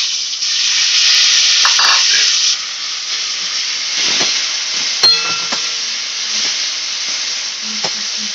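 Chopped tomato going into spices frying in oil in a pan for a chana dal curry, setting off a loud sizzling hiss that settles into softer spitting and stirring clatter.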